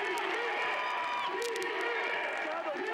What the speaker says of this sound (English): Now a second and 10 as this crowd comes to life.